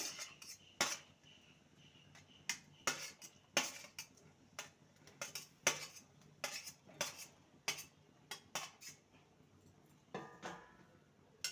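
Fried papaya pieces and drumsticks being stirred in a pan, heard as sharp metallic spoon clinks and taps against the pan at an irregular pace over a quiet background, close and crisp.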